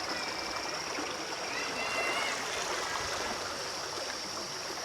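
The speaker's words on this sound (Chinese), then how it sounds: "看一下這條河，原兵衛川" The Genbei River, a cold, clear stream in Izu, Japan, flows with a steady, close rushing and babbling wash that stays even and unbroken for about five seconds, with no voices over it.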